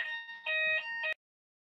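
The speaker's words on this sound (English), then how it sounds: "Sorry about the alarm." An electronic alarm sounds during a physics seminar, giving a steady, tonal multi-pitched buzzing tone in about three pulses over roughly a second before cutting off abruptly, moderately loud with no talk over it.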